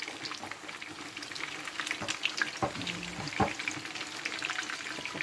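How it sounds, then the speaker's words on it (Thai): Egg with mussels frying until crispy: a dense, crackling sizzle of hot oil that keeps going throughout, with scattered pops and a few scrapes of a utensil, heard close with no talking. "ทอดไข่ใส่หอยแมงปู"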